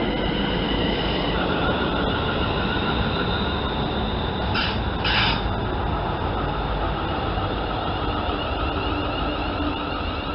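A train sits at or moves past a station platform on a Wolverhampton to Cambridge Parkway service, giving a steady loud rail rumble throughout with a brief high squeal midway and no talk.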